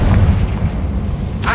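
Confringo spell explosion in the Hogwarts Legacy video game, a loud, deep boom that rumbles and fades over about a second, followed by a short burst of brighter crackle.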